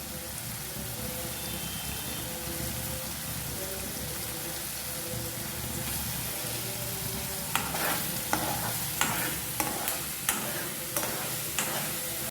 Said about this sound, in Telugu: ఆయిల్ వేడెక్కింది, మసాలా ఫ్రై చేసుకోవాలి ఫ్రెండ్స్.